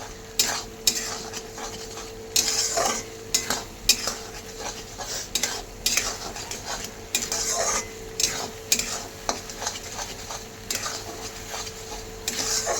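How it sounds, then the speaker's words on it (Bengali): A spoon scrapes and stirs rice with mung and masoor lentils and green chilli frying in a pan, irregular clattering strokes over a soft continuous sizzle, with no talking. "চালটাকে আমি ভালো মতো একটু নেড়ে চেড়ে নিচ্ছি"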